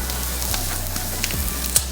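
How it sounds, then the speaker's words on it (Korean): Braised spicy chicken sizzles on a cast-iron cauldron lid set over an oak wood fire, a steady close crackle and hiss with a few sharper pops. "참나무 장작불과 무쇠 솥뚜껑의 합작품 지글지글 불맛."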